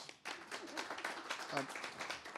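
An event audience gives a steady round of applause, a crowd of many hands clapping continuously at moderate volume, heard from within the room with a faint voice mixed in.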